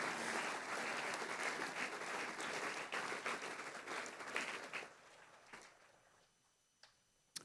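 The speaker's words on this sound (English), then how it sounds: "Have a round of applause for the students on stage." A school assembly crowd gives a long round of applause for students on stage, dense clapping filling the hall for about five seconds before thinning to a few scattered claps and silence.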